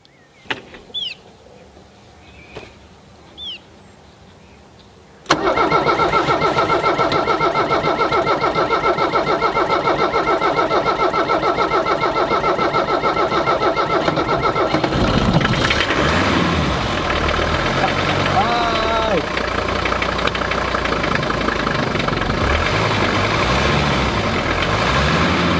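After a few quiet seconds, the diesel engine of a rusty Mercedes-Benz W123 E-Class cranks and catches, then settles into a loud, rattling idle that runs on steadily, close by.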